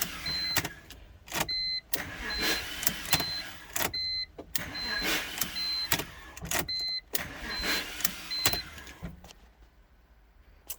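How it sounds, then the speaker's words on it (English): A car's starter cranks the engine in repeated short bursts, each a whirring grind with a high whine that starts and stops abruptly, about ten tries in a row with brief gaps between, a possible Bendix engagement fault, close and fairly loud. "And then it goes to cranking up fine."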